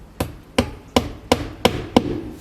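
Six sharp hammer strikes driving plastic cap nails through housewrap on an A-frame cabin wall, evenly spaced about a third of a second apart, close and loud.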